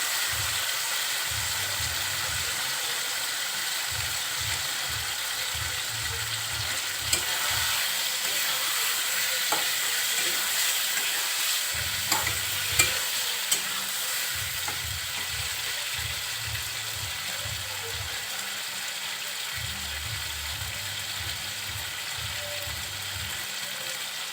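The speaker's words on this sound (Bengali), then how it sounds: "সুন্দরভাবে কষিয়ে নিচ্ছি" Boiled beef tripe is stir-fried in a spice mixture in a pan, giving a steady, even sizzle with a low rumbling hum that pulses underneath and a few faint scrapes.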